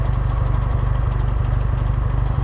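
A Hobart welder generator powered by an L134 Go-Devil engine runs steadily, a loud, close, rapidly pulsing low thrum with no voices.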